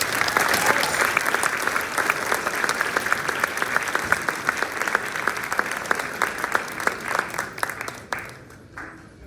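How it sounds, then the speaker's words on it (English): Sustained audience applause for the McMillen Women's Choir at a high school winter concert: dense, bright clapping from a full room that stays strong, then thins and fades over the last second or so. "So give them another round of applause."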